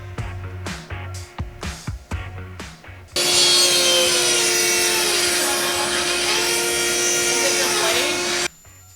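A table saw with a dull blade rips a wooden 2x6 lengthwise, a loud sustained whining, grinding cut lasting several seconds after a few knocks and clunks of setup, close and alone before cutting off abruptly.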